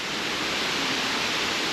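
A waterfall on a nature trail in the mountains near the Austrian-German border, heard as a steady, dense broadband roar of falling water that holds even throughout, with no voices over it.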